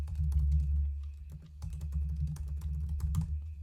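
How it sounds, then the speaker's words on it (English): Quiet, close typing on a computer keyboard, irregular bursts of key clicks over a low steady hum. "You can hear me typing."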